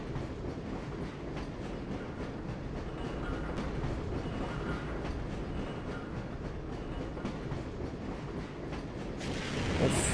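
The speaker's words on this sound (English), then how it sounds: "Is that my tram?" Tram arriving in the Half-Life: Source video game, a steady rumbling rail rolling sound that holds loud for the whole stretch and swells near the end.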